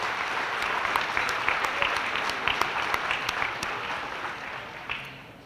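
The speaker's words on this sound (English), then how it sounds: "Let's all give the staff of Grant's Catering a round of applause for the delicious meal" A banquet room full of people at a chamber of commerce annual meeting applauding the catering staff, steady clapping that holds for several seconds and then begins to taper off.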